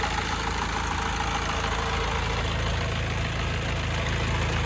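The diesel engine of a 2015 Honda Mobilio idles close up with a loud, constant drone and light knocking clatter, alone with no voices.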